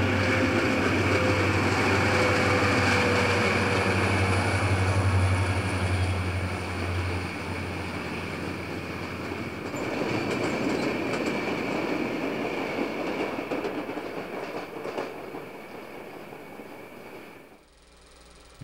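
A Penn Central freight train of mostly boxcars, led by General Electric U23B and U25B diesel locomotives, rumbles past a brick depot close by, heavy engine drone giving way to rattling cars and fading wheel noise.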